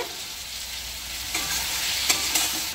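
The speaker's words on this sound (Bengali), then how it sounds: "দিয়ে একটু ভালো করে নাড়াচাড়া দিয়ে নেবে।" Chilli chicken with tomato sauce is stirred in a hot pan, giving a soft steady sizzle with a few faint scraping clinks from the utensil, with no voices.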